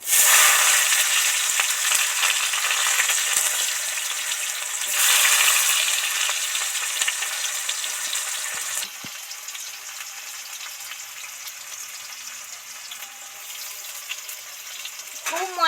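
Chopped onion going into hot oil with bay leaf and dried red chillies for an egg and cauliflower curry, giving a loud, steady sizzle that sharpens briefly, then settles into a softer continuous fry with faint stirring.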